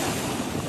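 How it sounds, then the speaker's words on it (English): Storm-driven ocean surf churns furiously along an eroding beach between Port Douglas and Cairns, a dense, steady roar with wind buffeting the microphone and no voices. "The ocean churning furiously."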